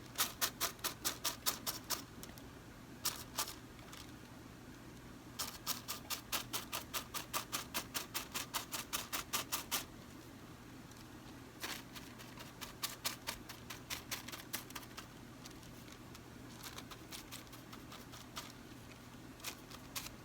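Gold leaf is tapped down onto a sized surface, producing faint, rapid, crisp taps in quick bursts separated by short pauses over a quiet room background.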